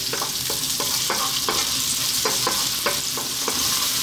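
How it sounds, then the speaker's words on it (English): Onions fry in a pan over fairly lively heat, giving a continuous bright sizzle with regular stirring scrapes about every half second, close and alone without talk. "We're going to start off by dropping in our onions."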